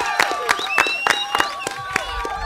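Audience applause for a performer at a live tango and foxtrot mini show, a burst of sharp, quick claps with some crowd cheering, heard close and mixed with a voice speaking over it.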